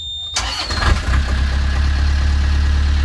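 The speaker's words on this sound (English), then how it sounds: "Let's start the engine." A narrowboat engine cranks and catches, then settles into a steady low idle that rumbles loud and close for the rest of the clip.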